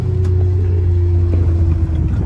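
A Dodge Hellcat Redeye idles close by in Los Angeles with a loud, deep, steady engine rumble and a constant low hum, with no revving and no talking.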